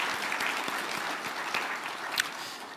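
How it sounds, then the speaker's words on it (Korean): Church congregation applauding its worship team and choir, a soft, steady patter of many hands clapping at a distance for a few seconds. "오늘 우리 찬양팀 찬양대에게 우리 같이 한번 박수 한번 올릴까요?"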